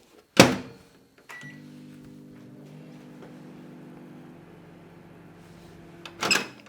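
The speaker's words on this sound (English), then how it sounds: "White pastellage, a little bit too firm, so I put into microwave for just a few seconds." Microwave oven running a few seconds to soften white pastillage: a door thump, then a steady low hum that drones on before cutting off, ending with another sharp clunk of the door.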